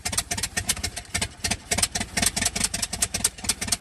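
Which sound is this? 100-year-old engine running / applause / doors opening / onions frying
100-year-old engine running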